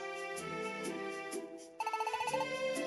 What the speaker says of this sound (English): Is that the expedition gadget ringing?